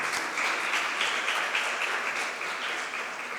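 Audience applause fills a folk dance competition event in Varanasi, a steady dense wash of many hands clapping throughout without pause, loud and close.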